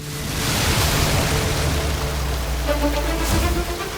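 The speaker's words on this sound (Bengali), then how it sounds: "জলের ট্যাঙ্ক ফেটে গেছে" Water gushes from a burst water tank in a loud, continuous rushing wash that stays steady and close throughout, with a low rumble beneath the spray.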